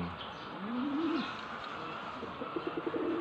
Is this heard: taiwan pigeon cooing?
yes